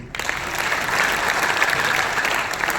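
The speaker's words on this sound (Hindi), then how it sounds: "एक बार थोड़ी सी तालियां दे दीजिए" An audience at a Hindi poetry and political gathering breaks into dense, steady applause that stays loud and even for about three seconds, with no voices over it.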